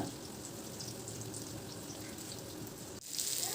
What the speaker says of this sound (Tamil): ரசத்துக்கு தேவையான அளவு தண்ணி ஆட் பண்ணலாம்